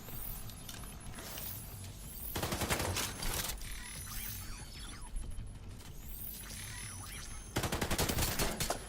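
Rapid enemy gunfire in The Division 2, a third-person shooter, with dense overlapping bursts of shots crackling throughout and louder volleys flaring near the middle and at the end.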